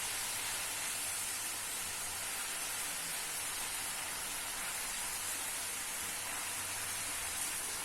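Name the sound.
potato rings frying, sizzling in oil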